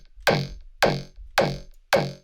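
Neurofunk bass through a guitar amp plugin turned fully up, four evenly spaced distorted hits about half a second apart, each a bright gritty attack that quickly decays, loud and alone.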